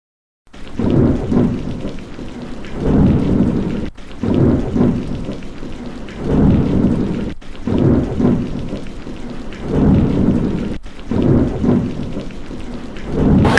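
Steady heavy rain pours throughout, with several loud rolling thunder rumbles recurring every few seconds, close and powerful.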